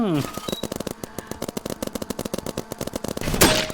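A paintball gun fires in the Roblox game BIG Paintball as a quick string of sharp, evenly spaced shots. The shots run steadily throughout, a voice is briefly heard at the start, and a louder burst comes near the end.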